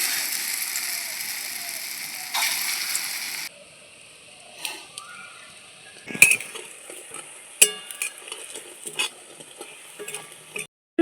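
Vegetable fritters fry in hot oil with a steady fizzing sizzle, loudest at the start. Later, scattered clinks and scrapes of a utensil stirring the pan cut through quieter sizzling.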